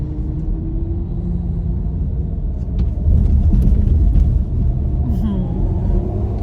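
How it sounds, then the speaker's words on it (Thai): Car interior on a drive to the airport, with a steady low road rumble and engine drone throughout that swells slightly midway, and no sharp events. "กำลังขับรถไป สนามบินนะคะ"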